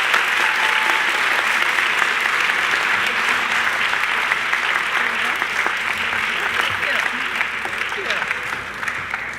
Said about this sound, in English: Please a round of applause for Miss Amie Wilkinson.